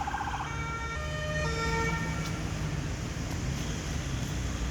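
Emergency vehicle siren passing near a shop fire, a loud, steady wailing tone with stepped pitch sweeps over constant road traffic rumble; no talk.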